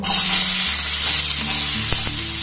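Two chopped onions hit hot oil with cumin and fry with a loud, steady sizzle that continues throughout, close and unbroken, while the pan is stirred.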